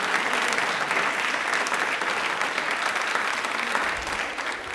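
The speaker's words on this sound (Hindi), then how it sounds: "अपने लिए पहले एक बार तालियां बजाइए, जोरदार बजाइए" A quiz show audience claps loudly for themselves, a sustained, dense round of applause that holds steady and eases slightly near the end.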